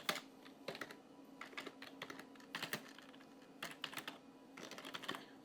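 Bursts of quick typing as HTML code is entered on a computer keyboard, clusters of crisp key clicks separated by short pauses, close and fairly quiet over a faint steady hum.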